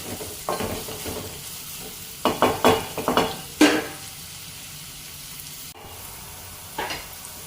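Ivy gourd (tindora) pieces frying in a pan over a medium flame while being stirred, with a steady low sizzle under clustered bursts of scraping and clattering strokes, close by, with no talking.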